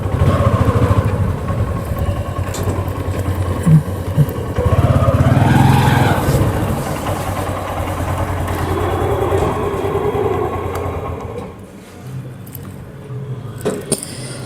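Motorcycle engine idling while the bike is parked in Kanpur, a steady low chugging close by that swells briefly, then fades and cuts out near the end.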